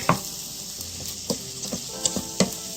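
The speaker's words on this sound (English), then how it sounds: "You want to coat all of the basmati kernels with olive oil and the onions and the garlic." Basmati rice sizzles in olive oil with onion and garlic as it is stirred, giving a steady frying hiss broken by several sharp scraping knocks of the spoon in the pot.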